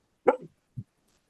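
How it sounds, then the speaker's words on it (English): A dog lets out one sharp, fairly loud bark with a short trailing yelp, then a single softer, lower bark, with quiet around them. "the dog just continued to bark"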